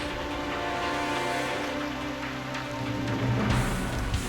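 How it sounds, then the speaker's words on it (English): Steady rain in the video game Reverse: 1999 patters and hisses on a surface, a continuous wash of drops with no voices. "It's raining."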